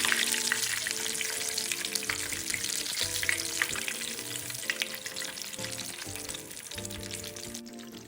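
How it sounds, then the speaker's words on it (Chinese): Fish wontons deep-fry in a wok of hot oil, a busy continuous sizzle and crackle, close and steady, with occasional clinks of utensils stirring the pieces. "油锅经过1轮油炸后，接下来就可以一次多炸几个"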